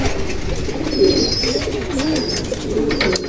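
Pigeons coo on the ground among other pigeons, soft throaty repeated calls close by against a light outdoor background, without speech.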